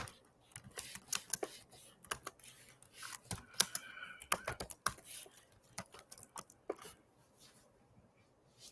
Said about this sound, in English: Excuse me for my typing.